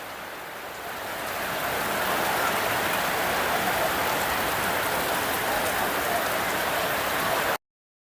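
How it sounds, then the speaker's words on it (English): Steady rain falls outdoors during metal fabrication work on a flat bed tray, a loud, even hiss that swells after the first second and holds constant before cutting off abruptly. "Did I mention that it was raining?"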